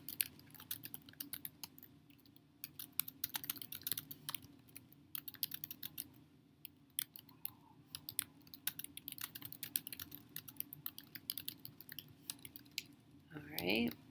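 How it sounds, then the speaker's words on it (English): Keys on a computer keyboard clatter in steady, irregular bursts of close clicks during sentence drafting, with a low steady hum underneath and a brief voice near the end. "So I'm just going to go ahead and type in what I had for my attention grabber."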